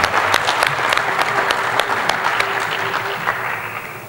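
Audience applause fills a large hall at a big poetry competition in Lahore's Alhamra Hall, a dense, steady clapping close and loud throughout, with faint voices underneath.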